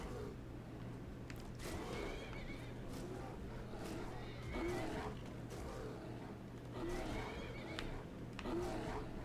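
A horse whinnies a few times in a video game over a constant low hum and background noise, the calls fairly faint and spaced apart.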